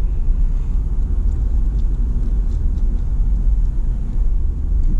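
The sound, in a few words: motor coach driving through an RV park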